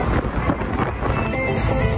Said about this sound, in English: So we'll see how it does with full wind noise